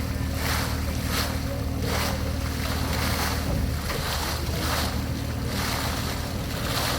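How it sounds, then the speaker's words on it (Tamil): Water gushes steadily from a borewell in Tamil Nadu after the pump has been switched off, a dense continuous rushing roar close by that pulses gently, with no talk. "வண்டி ஆஃப் பண்ணியும் தண்ணி வந்துட்டுருக்கு."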